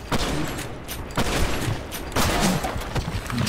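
Three loud pistol gunshots in the video game BlackShot crack in sequence with short gaps between them, each trailing off quickly, no talking.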